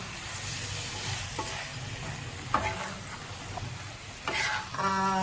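Chicken pieces roasting with salt in a hot pan give a steady close sizzle, broken by a few scraping stirs and clicks, with no talk over it.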